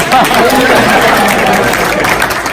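Applause mixed with crowd chatter in a room, a dense steady clapping wash with voices murmuring throughout.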